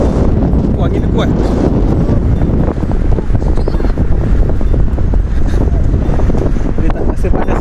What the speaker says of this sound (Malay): Wah, angin dia kuat.